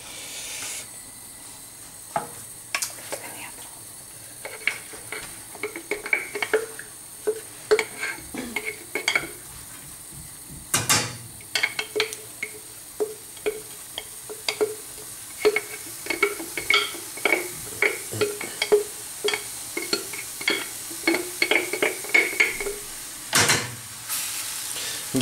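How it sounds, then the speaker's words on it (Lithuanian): Dry buckwheat groats are stirred in a frying pan, with repeated close scraping and rattling strokes over a soft background hiss, coming in irregular quick bursts throughout. "Kad neprisviltų, mes pastoviai turim maišyti juos."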